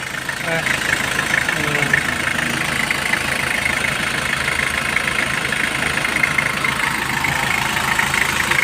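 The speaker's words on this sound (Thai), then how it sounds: "เดินเบาไม่สะดุดเลยนะคันนี้" A used Nissan Frontier single-cab diesel pickup truck engine idles steadily and loudly up close, with an even, unbroken rumble throughout.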